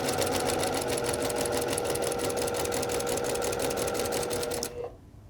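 A fast sewing machine runs steadily while chain-piecing quilt units, its rapid, even needle clatter loud and close for nearly five seconds before winding down and stopping.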